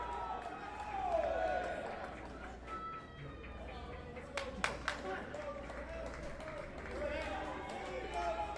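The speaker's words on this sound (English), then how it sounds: "Heard the yell of the crowd." Spectators at an indoor college men's team tennis championship match at SMU raise a brief collective yell amid a steady crowd murmur, while a commentator talks over it.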